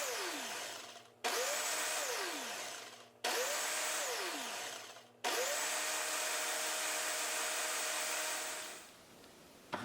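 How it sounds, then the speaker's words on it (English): A countertop blender whirs loudly through green juice with chia seeds, running in three short bursts that each wind down, then one longer continuous run before stopping. "And then I'm gonna blend this some more"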